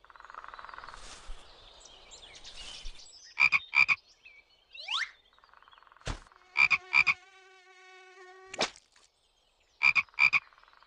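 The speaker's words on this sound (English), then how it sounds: "Frog." A frog croaks in short, sharp double bursts that repeat three times, standing apart over a soft background of other tones and noise.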